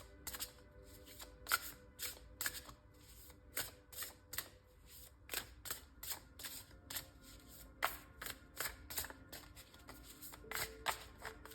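Oracle cards are shuffled by hand in a quiet room, a steady run of soft, rapid papery riffles and flicks, close and alone with no talking.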